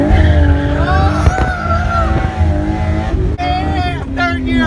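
A BMW E36 drift car slides with loud, sustained tire squeal and wavering screeches over a roaring engine, close and continuous, with people shouting excitedly over it.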